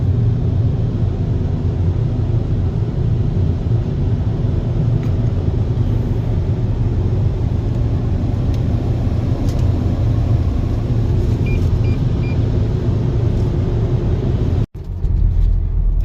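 Steady low engine and road rumble from inside a car driving home after a gas station car wash, constant and fairly loud with no talking, cutting out briefly near the end.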